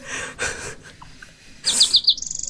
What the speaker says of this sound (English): That was a really loud bird.